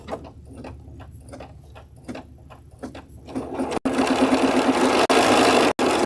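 A new Bernina sewing machine stitches in rapid rhythmic pulses, first a slower run of distinct needle strokes, then a faster, louder, dense whir, close and clear with no talk.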